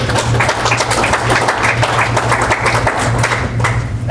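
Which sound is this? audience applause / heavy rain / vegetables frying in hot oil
audience applause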